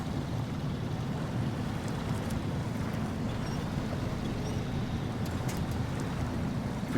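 A truck in the SnowRunner video game churns through deep water, a steady rushing, sloshing wash with low engine rumble throughout, moderately loud and without talk.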